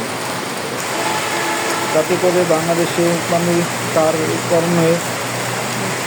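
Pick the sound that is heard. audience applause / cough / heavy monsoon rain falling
heavy monsoon rain falling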